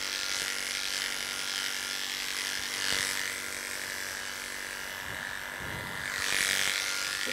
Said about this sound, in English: As much as you can do with your clippers for a salon trim